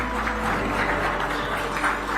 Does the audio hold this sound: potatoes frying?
no